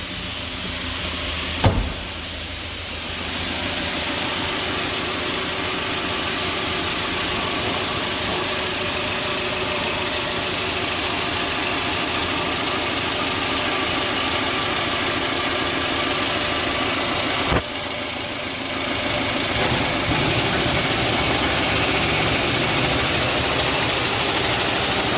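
A GAZelle van's UMZ EvoTech 2.7 petrol engine idles steadily up close, its fast, rhythmic ticking from a faulty hydraulic lifter running under the engine hum, broken by a couple of brief clunks.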